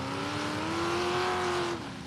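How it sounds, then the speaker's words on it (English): A race car engine drones loudly as the car passes on a dirt track, its pitch holding high and then dropping sharply as it goes by, with no talk over it. "You can pick up that engine noise."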